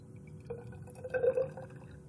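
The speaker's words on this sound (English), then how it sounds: "I'm going to pour this fluid" Displaced fluid poured from a container into a graduated cylinder, a brief liquid trickle and glassy splash rising in the middle, with faint drips around it in a quiet room.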